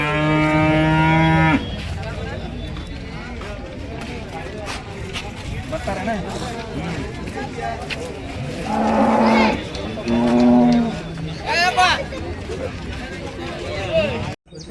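Cows moo loudly at the Ranebennuru cattle market, with a long low call at the start and more bellows midway, set against a busy background of people talking and general market bustle.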